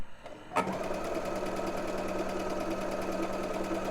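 A sewing machine runs a steady zigzag stitch at 2.5 length across knit fabric for boxer brief underwear, its even mechanical whir starting abruptly after a brief quiet moment and continuing close and constant.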